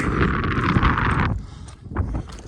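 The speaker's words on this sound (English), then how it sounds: "A little windy up here." Strong wind buffets the microphone on a mountain summit above Utah Valley, a loud, rumbling roar that suddenly drops off, then gusts return more faintly.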